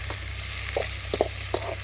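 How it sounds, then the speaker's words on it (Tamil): Onion and green chilli sizzle softly in hot oil, punctuated by a few quick scraping stirs of a ladle, close up and without speech. "எண்ணெய் நன்கு சூடாகிவிட்டது. வெங்காயம் பச்சை மிளகா ஒன்று சேர்த்து போடவும்."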